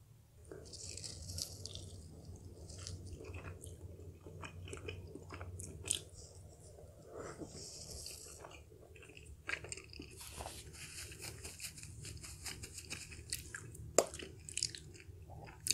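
Crunchy biting and wet chewing of Samyang hot chicken fire dumplings, close and steady throughout with irregular crisp crunches and soft squishy mastication, no talking.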